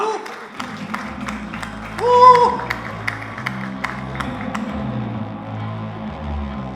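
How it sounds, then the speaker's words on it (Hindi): Applause from the audience at the Mirzapur Season 3 official trailer launch as actresses Rasika Dugal and Shweta Tripathi Sharma come on stage, a steady crowd clapping over stage music with a brief swell near the middle. "जोरदार तालियों के साथ स्वागत कीजिए मंच पर very talented actresses Rasika Duggal and Shweta Tripathi Sharma"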